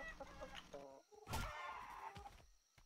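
A chicken in the survival video game Atlas clucks in short, quiet bursts, with a sharp hit sound in the middle and faint game ambience around it.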